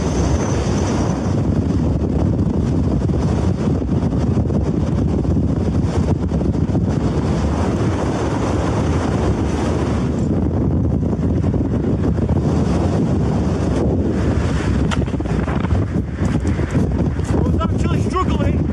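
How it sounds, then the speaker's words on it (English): Strong, howling wind buffets a mountain campsite at altitude, a constant loud roar of gusts across the microphone that lasts the whole stretch, with brief exclamations from people nearby. "The wind behind that wall sounds absolutely ruthless."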